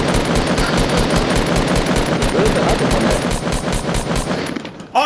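Fortnite squad firefight: rapid, steady bursts of automatic gunfire and grenade launcher shots, loud and dense throughout, easing slightly near the end.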